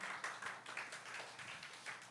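A church congregation at a youth worship service gives a short, light round of applause for the media, prayer and Christmas musical teams, soft scattered claps at a low level.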